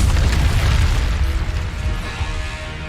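Confringo blasting spell in Hogwarts Legacy, a loud, deep explosive boom that rumbles and crackles for a couple of seconds, then settles into a lower churning roar, heard alone without speech.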